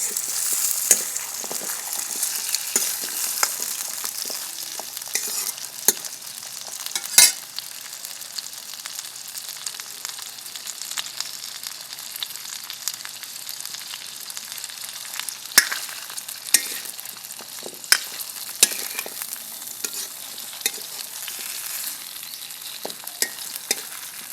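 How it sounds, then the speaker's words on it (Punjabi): Amla and ginger frying in a pan for a pickle, a steady bright sizzle with crackling pops and occasional stirring scrapes, close and continuous with no voices. "ਆਪਣੇ ਔਲੇ ਤੇ ਥੋੜੇ ਥੋੜੇ ਅਦਰਕ ਫਰਾਈ ਹੋ ਗਿਆ"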